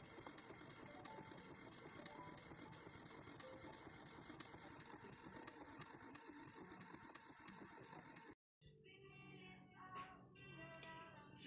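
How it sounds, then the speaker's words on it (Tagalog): A Canon Pixma MP237 inkjet printer prints a photo with a faint, steady mechanical whir and rapid print-head ticking, followed by a brief pause and a few clicks and shuffling paper-feed noises near the end. "I-print ko na yung picture."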